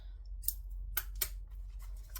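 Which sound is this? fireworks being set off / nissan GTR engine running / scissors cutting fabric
scissors cutting fabric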